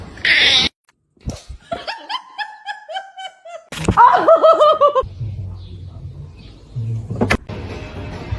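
A cat meows in a string of short, rising and falling calls. Other noises break in, including a burst of hiss, laughter-like chuckling and low rumbling, and the whole is fairly loud and near.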